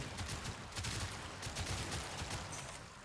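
In the video game Warframe, the Ocucor weapon fires continuously. A faint, rapid stream of crackling shots and impacts rolls on without pause, with no talk.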